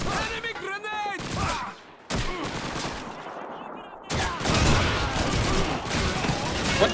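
Gunfire in the World War II shooter Call of Duty 2: scattered rifle and machine-gun bursts crackle through the battle, with shouted voices over much of it and a sharp volley resuming near the end.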